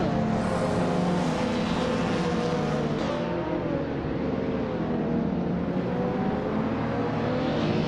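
Slow 2000s race cars, including a 2003 Renault Clio V6, roar off the line together at Autodromo Riccardo Paletti in a racing game, a dense, loud, steady engine drone that eases slightly after the start.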